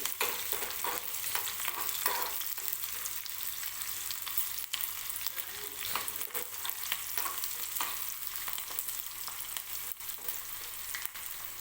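Onion frying in oil with curry leaves in a pan makes a continuous, quiet sizzle with occasional soft stirring scrapes, steady throughout and close, with no voices.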